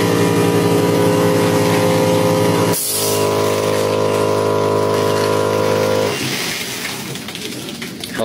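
A compressor-type coin car wash machine pumps out car shampoo foam, a loud steady mechanical drone with a hissing spray that shifts pitch midway, then settles into a rougher, quieter churn.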